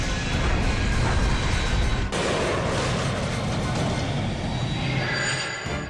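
A Boeing airliner carrying passengers from Bogotá roars loudly on landing approach, a dense broadband engine rumble with a sharp break partway through, then a thinner whine as it fades.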